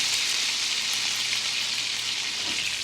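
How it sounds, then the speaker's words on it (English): Butter sizzles and crackles steadily in a hot pan, a bright continuous frying hiss with small pops, close up. "I want to wait for it to stop sizzling"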